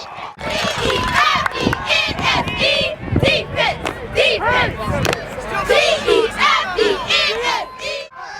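Crowd and cheerleaders yelling and cheering at a high school championship football game, a loud, continuous wash of shouting voices filling the whole stretch with rising and falling bursts.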